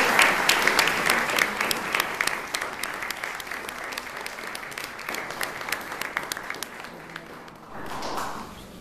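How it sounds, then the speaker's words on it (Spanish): Audience applause for the organizers at a biology lecture; a dense burst of many hands clapping that thins toward the end, with a brief voice rising near the close. "quisiera también brindarles un aplauso a los organizadores de la Aquelarre"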